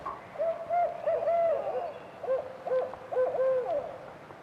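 A barred owl hoots in a rhythmic series of rising and falling calls, two bursts of grouped hoots separated by a short pause, clear and fairly close against a quiet background.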